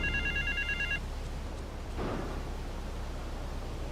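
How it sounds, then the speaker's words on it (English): A telephone rings in GTA 3 The Definitive Edition, a bright electronic trill lasting about a second over a steady background hum, followed by a faint low thud. "Get to the phone in South Belleville Park."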